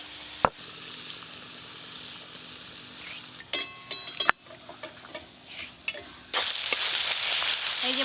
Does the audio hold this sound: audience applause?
no